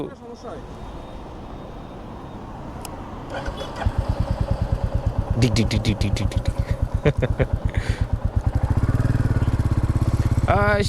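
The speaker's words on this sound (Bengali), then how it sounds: "চলেন শহরের নতুন রয়্যাল এনফিল্ডের ফিল দেখাই আপনাকে রয়্যাল এনফিল্ডের এই ক্লাসিক্স থ্রি ফিফটি" A Royal Enfield Classic 350 motorcycle starts up with a rapid, evenly pulsing single-cylinder thump that grows louder toward the end, while someone talks over the opening seconds and the engine noise.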